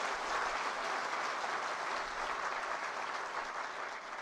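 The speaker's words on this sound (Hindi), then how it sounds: "जोरदार तालियों के साथ अभिनंदन और स्वागत" A hall audience at a seminar welcomes a guest with steady, even applause, a dense continuous clapping heard at moderate distance without fading.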